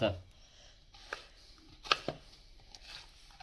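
Crisp, fried chakli being snapped by hand into small pieces, giving a few scattered brittle cracks and crunches, fairly close and quiet, with faint background noise between them.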